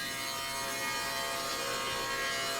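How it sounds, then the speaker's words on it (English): Dados cut into wooden panels for the shelves of a cleaning supply cart, a continuous even grinding of a tool through wood, steady and fairly close, with no talk. "With those cut, I can then cut in all the dados for the shelves on the cleaning supply cart."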